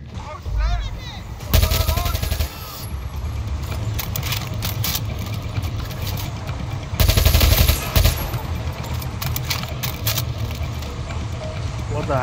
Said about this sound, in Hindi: गोली चल रहा है क्या ये?